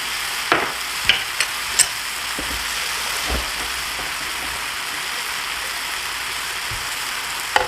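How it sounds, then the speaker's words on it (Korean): Udon noodles being stir-fried in a pan with soy sauce, rice wine and mirin give a steady, close sizzling hiss, with a few sharp scrapes and clinks of the utensil against the pan. "맛술이 다 졸아서 면에 베이게 볶아줍니다"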